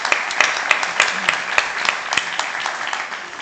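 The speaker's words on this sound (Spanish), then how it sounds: "Un aplauso, por favor" Applause from the audience at a round-table of Toledo authors at a congress in Toledo, with steady dense clapping close to the microphone, a few sharper claps standing out over about three seconds.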